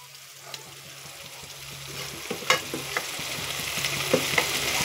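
Cumin paste stirred into onions frying in a pan, a steady soft sizzle with several sharp scraping stir strokes rising toward the end, close and unaccompanied by talk.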